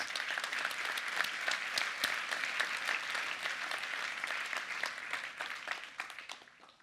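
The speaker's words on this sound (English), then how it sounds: "Let's give yourself a big round of applause." An audience at a tech keynote claps in a big round of applause, many hands producing a sustained crackling wash that fades gradually toward the end.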